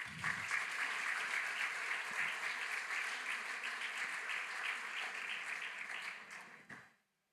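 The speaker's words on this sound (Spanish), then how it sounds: "Dale un aplauso a Cristo." A church congregation in Culiacán bursts into sustained applause for Christ, a thick, even roar of many hands clapping that holds steady for several seconds, then fades and cuts out.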